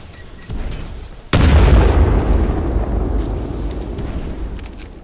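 A frag grenade explodes in Titanfall 2 with a sudden, loud boom that rolls into a long, rumbling tail, coming after a lower stretch of quieter game noise.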